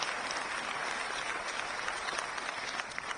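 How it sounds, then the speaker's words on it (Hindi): An audience in a formal Supreme Court gathering breaks into loud, sustained applause to welcome the Chief Justice, a dense steady clatter of many hands clapping throughout. "इसके लिए जोरदार ताली बजा करके सीजे साहब का स्वागत करते।"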